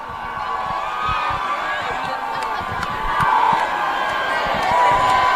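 A large crowd cheers and shouts at Auburn basketball's homecoming celebration after the team advanced to the Final Four. The roar is sustained and swells louder toward the end, with whoops and voices mixed throughout.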